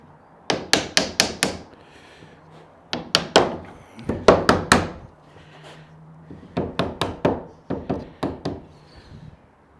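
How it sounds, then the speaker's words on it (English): A small hammer taps a window into a BillyOh log cabin frame: close, sharp knocks in quick bursts of four to six, with short pauses between the groups. "Let's use my little hammer."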